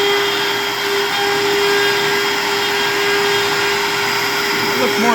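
A power drill with a 1/4 inch bit bores holes, giving a loud, continuous motor whine that holds steady without a break.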